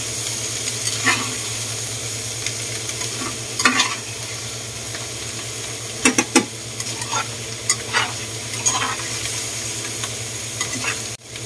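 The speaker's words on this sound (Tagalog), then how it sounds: "Saka ko siya titimplahan. Medyo igigisa lang natin ng konti." A seasoned meat mixture for embutido sautés in a pan with a steady, close sizzle, while a spoon scrapes and stirs it in scattered bursts.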